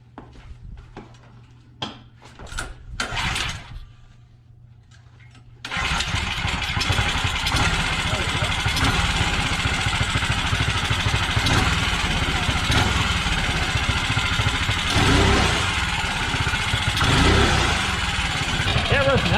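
A mini ATV fitted with a Predator 212 engine and stock exhaust pulls over a few times, then catches and runs steadily at a fairly quiet, even idle, close by, with a brief voice early on.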